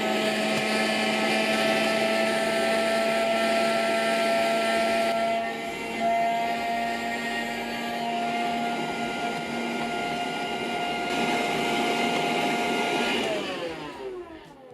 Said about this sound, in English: A handheld vacuum is enough for this amount of dust.